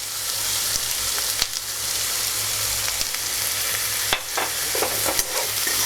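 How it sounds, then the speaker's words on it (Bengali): Onion and potato frying in a pan with salt for poha snacks, a steady close sizzle with scattered clicks of stirring and a few sharper scrapes near the end. "এটাকে একটু ফ্লেমটা কমিয়ে হালকা ভাজতে দেবো"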